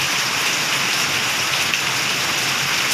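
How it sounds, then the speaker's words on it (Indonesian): Heavy rain pours steadily and densely, close by, a constant hiss with no voices. "Nunggu hujan reda guys."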